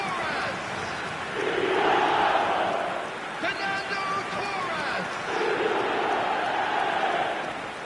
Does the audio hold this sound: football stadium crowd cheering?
yes